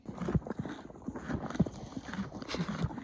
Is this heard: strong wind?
no